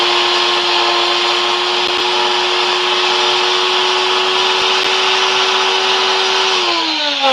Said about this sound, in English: But I do need to use the blender, so it's gonna be super loud